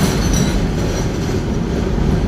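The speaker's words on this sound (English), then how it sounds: "you got the noise of the train as well" A train rumbles past in New York City, a loud, close, continuous roar with heavy low rumble and a faint metallic rattle, no talking.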